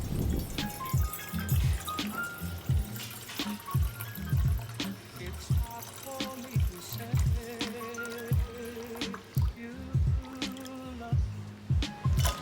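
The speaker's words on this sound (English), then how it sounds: "First, add enough water to the pan." Water poured into a cooking pan in a kitchen, an irregular splashing and dribbling stream with repeated short pulses, close and fairly clear, heard on its own.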